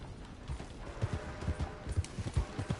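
Horse hooves clip-clop in Red Dead Redemption 2, a steady trotting rhythm of soft, close thuds repeating through the whole stretch with no voices.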